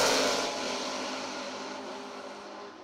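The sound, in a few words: drag racing cars accelerating off the start line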